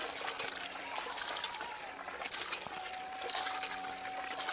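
Water gushes steadily from a newly bored hand pump at a forest ashram, running as a continuous broadband rush with no talk over it, maybe a little muddy at first.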